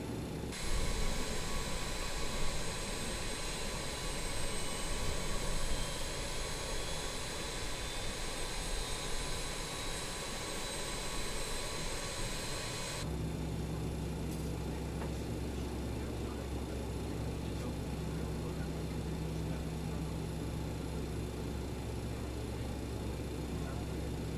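BAe 146 jet engine spooling up during start in a flight simulator, a steady synthetic roar and whine that abruptly shifts to a deeper, rumbling hum midway, with no talk.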